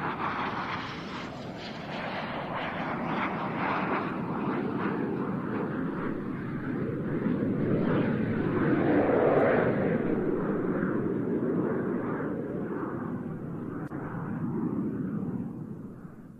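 A military training and light-attack aircraft makes a flat, fast pass at an air show, its broad jet roar building to a peak midway, then fading gradually as it moves away.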